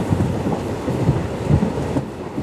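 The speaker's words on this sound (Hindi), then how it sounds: "फिलहाल हमारी ट्रेन गुजर रही है बुर्ज मुहार रेलवे स्टेशन से" Train running on track near Abohar, passing Burj Muhar railway station, a close, steady rumble with rhythmic clickety-clack thumps from the wheels over rail joints, with no talk.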